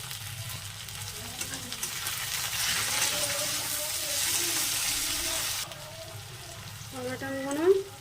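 Chopped tomatoes sizzle and fry with onions in hot oil, with a steady crackling hiss and some stirring, while someone talks over the cooking throughout.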